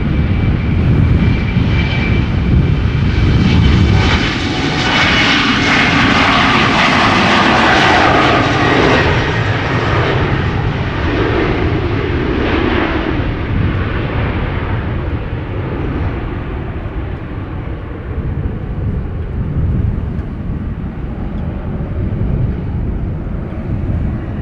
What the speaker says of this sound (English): German Airways Embraer 190 flying for KLM. That's KLM flight 1885 outbound Nuremberg.